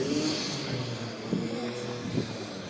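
Engine of a Noble M12 supercar revving at a supercar show noise meeting, several loud rising blips over a steady idle rumble, with crowd chatter and voices in the background.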